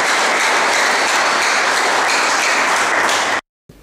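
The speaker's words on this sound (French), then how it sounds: "je vous prie d'acclamer très fortement pour l'IPEN et pour ses représentants" An audience at an ISP Bukavu defense ceremony applauds in a steady, loud wash of clapping that cuts off abruptly near the end.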